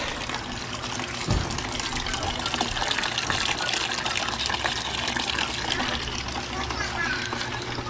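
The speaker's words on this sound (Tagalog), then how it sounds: "Kaya po at tutubigan lang natin yung halo natin." Water gushes steadily into a cement and sand mix during construction work, a continuous rushing splash that carries on for several seconds with a brief thump partway through.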